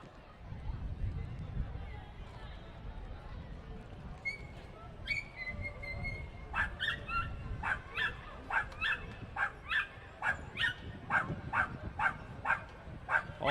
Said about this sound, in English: All that barking's from Mercury